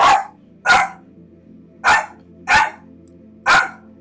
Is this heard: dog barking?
yes